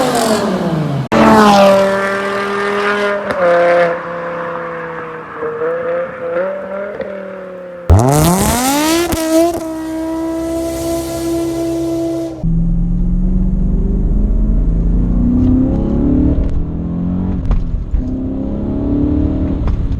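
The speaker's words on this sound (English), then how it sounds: "the E60 chassis M5 has a V10 motor in it, and it revs up to 8250 from the factory" A high-mileage BMW E60 M5 with its factory V10 revs hard in several loud, rising bursts, climbing to a shrill high-rpm wail before dropping back to a rumbling idle between pulls.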